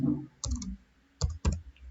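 A few sharp keystrokes on a computer keyboard while entering a word into an Excel spreadsheet cell: one brief burst of clicks, a pause, then two more distinct taps close together, near and fairly quiet.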